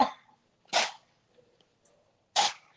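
A dog gives short startled huffs or chuffs, three sharp breathy bursts spaced by silence, close by and moderately loud.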